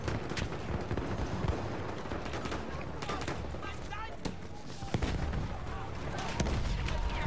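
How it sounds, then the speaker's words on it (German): Constant explosions and gunfire in the Battlefield 1 multiplayer war game, dense and loud throughout with repeated sharp shot cracks and heavy booming blasts over a continuous rumbling battle din. "Da explodiert schon wieder alles."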